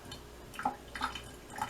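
Warm water pouring into a small saucepan in a home kitchen while making chocolate almond halva, a few soft splashing and gurgling bursts close by, brief and quiet.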